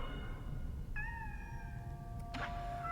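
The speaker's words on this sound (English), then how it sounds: "Oh my god, I was right! They do evolve into cats!" In the video game Nine Sols, a cat gives two clear meows, a longer drawn-out call followed by a shorter one, over a low background hum with no talk.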